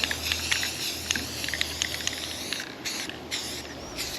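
Spray paint hisses in steady bursts from a can onto New Holland BB940 square baler parts, a continuous airy spray with short pauses and faint clicks, close and moderately loud.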